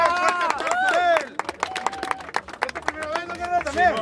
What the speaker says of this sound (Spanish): Fuerte aplauso a Daniel, lo hizo muy bien.